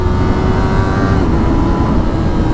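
A Yamaha R25 motorcycle engine holds a loud, close, high-rev buzzing drone, steady and unbroken.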